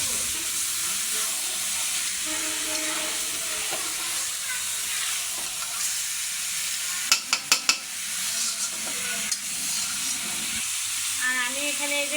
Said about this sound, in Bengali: কষিয়ে দিলাম কিছুক্ষণ মাছগুলো